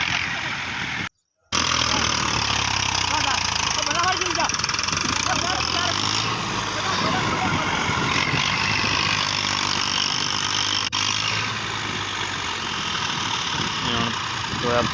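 Tractor engine labouring hard to pull a trolley stuck in soft ground, a steady loud rumble throughout with a brief cut near the start, and people talking over it.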